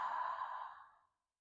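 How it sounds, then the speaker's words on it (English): A single forceful exhale through the mouth during a grounding yoga flow, a close breathy rush that fades out over about a second, with no talk over it. "Release it through the mouth. Take another one just like that. Inhaling. Breathing out forcefully."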